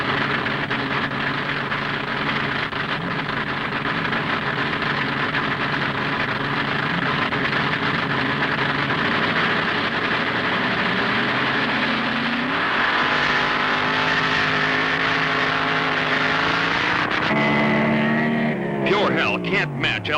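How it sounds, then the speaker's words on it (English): A gas-burning drag racing roadster launches and races at the 1970 Indy Nationals, its loud, sustained engine roar climbing in pitch through gear changes while an announcer talks over it. "Leaving first on the handicap start will be the gas-burning roadster of Ron Ellis from Michigan."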